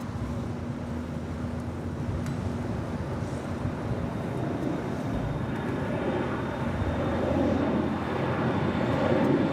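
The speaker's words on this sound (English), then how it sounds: "Next departure, American Eagle, flight 4873, heading to Albuquerque in an E175LR." An American Eagle Embraer E175LR jet departing LAX for Albuquerque gives a steady, broad engine roar that swells gradually as it climbs away, distant and continuous without any talk.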